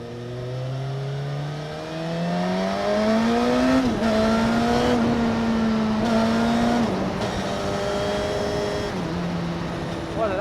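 A 2021 Suzuki Katana motorcycle pulls hard and revs up through the gears, its engine note climbing in pitch between shifts. The sound is loud and close, with light wind noise underneath.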